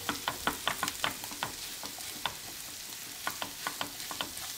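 A potato and spice mixture cooks in a pan over a medium flame, with steady frying sizzle and repeated sharp scraping and stirring clicks from a utensil.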